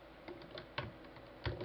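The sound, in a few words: pressing Control W on a computer keyboard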